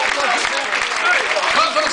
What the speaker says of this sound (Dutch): Geef ze nog een applaus